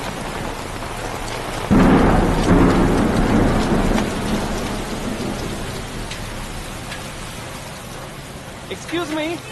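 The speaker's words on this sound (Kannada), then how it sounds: "ಮಳೆ ಬರೋ ಹಾಗಿದೆ" Heavy rain pours steadily while a thunder rumble rolls in near the start, loud and broad, then the downpour continues alone and fades slightly, with a brief voice-like sound at the end.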